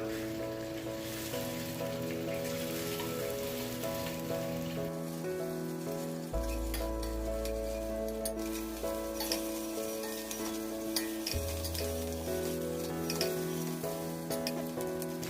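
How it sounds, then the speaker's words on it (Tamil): An egg fries in hot oil for egg masala with a steady, close sizzle and crackle that runs throughout, under soft background music. "ஒரு நிமிஷம் இந்த முட்டையை நம்ம இந்த எண்ணெயில இந்த மாதிரி திருப்பி போட்டு எடுக்கலாம்."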